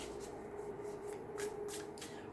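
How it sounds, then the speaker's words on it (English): Tarot cards being shuffled by hand, a series of soft riffling bursts at an uneven pace, close and fairly quiet over a steady low hum, with no talking. "I'm going to do one more shuffle here"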